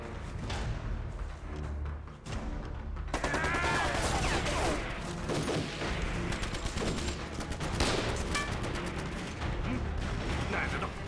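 Dense, sustained gunfire with repeated cracks and thumps fills a scene of sniper fire in a war drama about fighting the Japanese, close and loud throughout.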